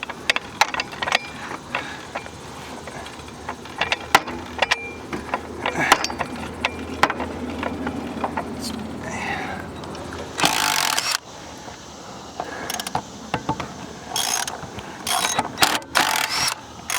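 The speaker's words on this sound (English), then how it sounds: "Let me try to get this jack up underneath there." A jack is worked up underneath a Lincoln Continent motorhome to reach the engine, giving clattering mechanical clicks and ratcheting bursts scattered through the clip, with a few sharp louder bangs near the end and brief speech in places.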